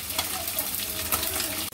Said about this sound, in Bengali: মাছগুলো ভাজা হয়ে যাচ্ছে